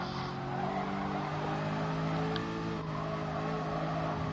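A race car engine in Gran Turismo Sport drones steadily with sustained harmonic tones that rise and fall slightly, joined by faint tire noise and no talking.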